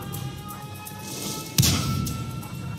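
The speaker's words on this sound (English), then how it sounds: "And the artillery finished him off." An artillery shell impact in the World of Tanks video game on the Lakeville map, a single heavy thud with a brief crash that rises sharply out of a low engine rumble and then trails off.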